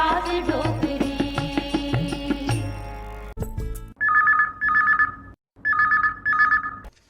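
A telephone rings twice for a Chhattisgarhi song call-in program, each ring a warbling electronic burst of about a second. The rings come right after a stretch of folk music with drums that cuts off abruptly.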